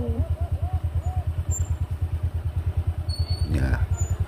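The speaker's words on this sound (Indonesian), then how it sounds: "di belakang ini sebenarnya motor yang bonceng tadi" A motorcycle carrying a rider and passenger runs close by on a road in Malang, its engine throbbing in a steady rapid pulse, with a voice speaking over it.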